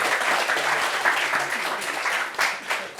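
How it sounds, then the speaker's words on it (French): An audience applauds steadily for about three seconds, a dense patter of clapping with a brief swell near the end. "Applaudissements pour Christelle."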